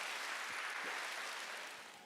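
Church congregation applauding during a Sunday worship service, a steady dense patter of many hands clapping that holds through and fades slightly at the end.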